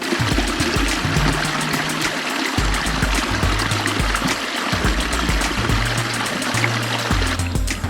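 Creek water trickling and splashing near a refilling water bottle on the Buffalo River Trail by the old Parker Hickman farmstead, a steady close stream running for the whole stretch with low, irregular gurgling underneath.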